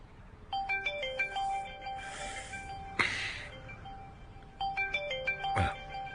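A phone ringtone plays a bright repeating electronic melody in two bursts, clear and close, with a soft thump between them.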